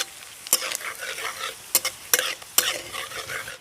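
Bay leaves, dried red chilies and cumin seeds sizzle in hot oil as a tempering, with a bright crackling fry broken by several sharp spatula clanks against the pan, close by.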